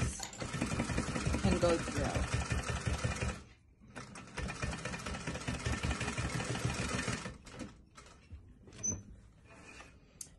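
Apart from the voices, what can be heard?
sewing machine stitching a fabric face mask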